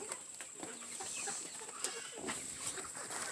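Backyard chickens in a composting run peck at fresh compost and scraps, clucking in short, scattered calls at close range over a busy background of scratching.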